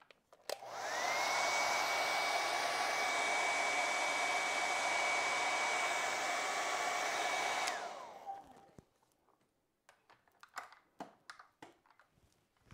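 A hair dryer dries acrylic paint on a winter bird painting, its steady loud whir running for about seven seconds before switching off. Faint scattered taps and handling noises follow.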